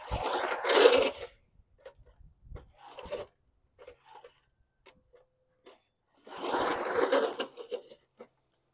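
Two rasping pull-starts on the recoil of a 1986 Snapper lawn mower at full choke, each a loud, close burst about a second long. Faint clicks and rattles fall in the quiet gap between them, and the engine does not catch.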